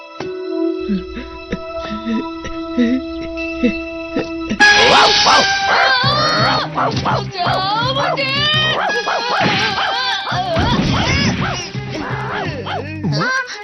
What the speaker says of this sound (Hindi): ये डॉगी हमेशा मुझ पर भौंकता है।